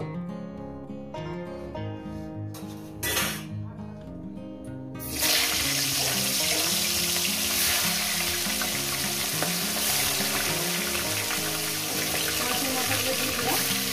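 Rohu fish heads go into hot oil for chorchori, and a loud, dense sizzle bursts up and then holds steady. Quieter background music plays before the fish goes in and continues under the frying.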